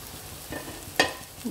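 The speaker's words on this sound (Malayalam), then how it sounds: "മുട്ട അടിച്ചെടുത്ത് നമുക്കതിൽ ഒഴിച്ചു കൊടുക്കാം" Beaten egg with salt hits a hot pan and starts frying, a brief burst of sizzle and a sharp spatter over a faint steady hiss.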